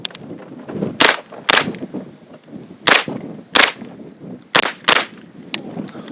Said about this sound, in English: Jacob with the 9mm. We're gonna go right to left on the first one. 2 shots on each.